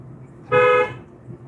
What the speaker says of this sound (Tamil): கொஞ்சம் ஒரு தடவை ஹார்ன் அடிச்சிருங்க